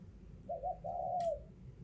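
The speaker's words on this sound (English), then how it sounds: "Oh, must have a pigeon somewhere." A pigeon coos near a window, two soft rolling coo phrases close together, moderately faint over a low room hum with no talking.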